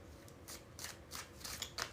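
Tarot cards shuffled by hand in a quiet room, a series of soft papery riffles and slaps in short bursts, close and fairly faint with no talking.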